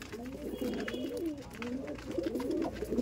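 Madrasi high-flying pigeons, an aggressive lot kept at a loft, coo in overlapping low rolling phrases that run steadily throughout, close and moderately loud with faint background noise.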